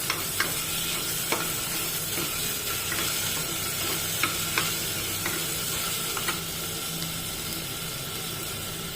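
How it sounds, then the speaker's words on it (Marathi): Green peas sizzle steadily in a pan of ground paste while a spoon stirs them, giving a constant fry with occasional scraping clinks. "त्यामध्ये वाटाणे टाकू आपण, वाटाणे परतवून घ्यायचे"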